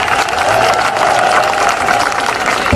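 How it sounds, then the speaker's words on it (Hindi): A crowd at a political rally in Karachi claps steadily and loudly for a few seconds, a dense wash of applause with a murmur of voices underneath. "अमरीन मलिक के लिए तालियां।"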